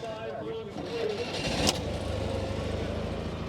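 A 1957 French classic car engine is pull-started at an outdoor car meet. A sharp mechanical yank leads into a steady close engine rumble, with voices talking in the background.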